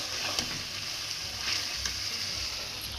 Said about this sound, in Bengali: এই যে আলু ভাজা শুরু করছি